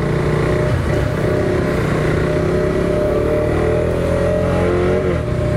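A car climbs a steep mountain pass in first gear on the road to Berastagi in North Sumatra, its engine droning loud and steady from start to finish with a slowly shifting pitch.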